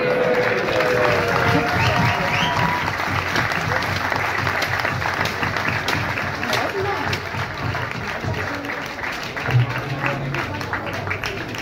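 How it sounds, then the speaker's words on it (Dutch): A crowd at a Dutch youth carnival speech performance applauds loudly and steadily, with thick, sustained clapping and a few voices and cheers mixed into the ovation. "Applaus"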